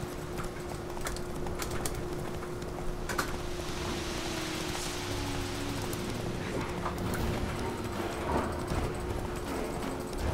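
Roach, the horse in The Witcher 3 video game, gallops in a rapid, steady rhythm of hoofbeats over light ambient game sounds, near and continuous.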